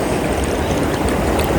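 Water rushes loudly and continuously in a churning, splashy roar at a spot where friends have gone swimming, close and unbroken, with no voices.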